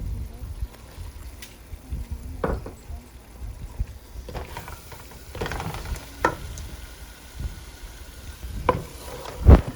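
Chicken with masala and onions being fried in a pan, with scattered clinks and scrapes of stirring over a low, steady sizzle.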